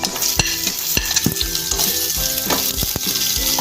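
Garlic and ginger sizzle steadily in hot oil in a pan for a mango pickle, with repeated scraping and clinking strokes of a spoon stirring close by.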